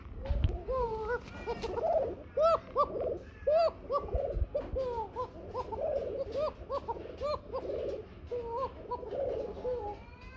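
Running short-face pigeons coo again and again, close and fairly quiet, in overlapping soft phrases, with faint clatter and other birds in the background.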